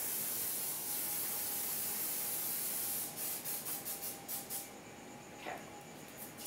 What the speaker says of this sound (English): I'm just going to take some regular cooking spray and spray it